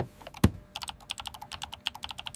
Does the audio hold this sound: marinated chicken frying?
no